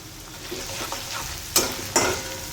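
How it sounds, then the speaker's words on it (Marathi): Crushed garlic and onion frying in hot oil, a soft steady sizzle with a couple of sharp scraping stirs of a spoon against the pan near the end. "लसूण आणि कांदा संगच टाकायचा आहे म्हणजे दोन्ही पण खूप छान तळल्या जाणार आहे"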